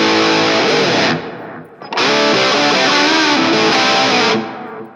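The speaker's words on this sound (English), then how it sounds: "You hear that delay effect from the pedal, but you're not getting any of that extra buzz" Electric guitar played through a delay pedal into a MOOER Noise Killer noise gate, loud sustained notes with echoing repeats, a brief pause, then a second ringing phrase that trails off cleanly without hum.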